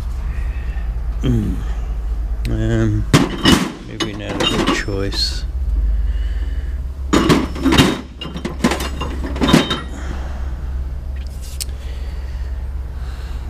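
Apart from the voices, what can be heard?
drawer being opened to pull out core drills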